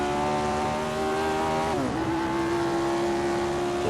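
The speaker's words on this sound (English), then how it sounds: "Revs on the engine are well and truly in the reds there." A 1967 Formula 1 car engine in a racing video game, recorded at the Dutch Grand Prix circuit, screams at high revs, then drops sharply in pitch as it shifts or lifts off before settling into a steady, loud drone.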